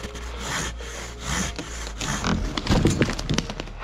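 A Silky Katana Boy 650 hand saw cuts through a tree trunk from below during mountain-bike trail maintenance, its rasping strokes grinding back and forth in an uneven rhythm, up close and without speech.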